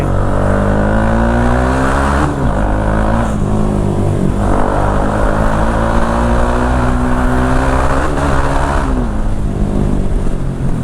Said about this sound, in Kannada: ಇವತ್ತು ನಮ್ಮ ಅಬ್ಬರ ಮಾಡೋ ಗಾಡಿ ಬರ್ತಾ ಇದ್ದೀನಿ